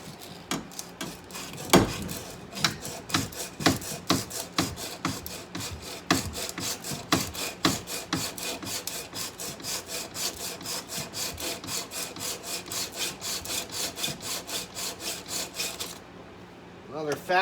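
Stiff hand brush scrubbing rust and old grease off a trailer axle, with fast, steady back-and-forth strokes that rasp close and loud without a break for about sixteen seconds before a brief pause.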